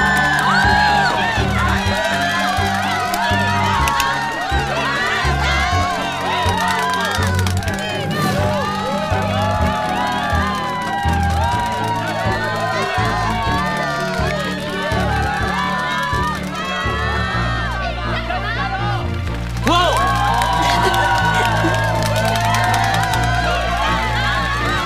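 Students cheer and shout as a player is welcomed to a school tennis match, a loud, lively crowd of excited voices with whoops and babble that swells and dips continuously.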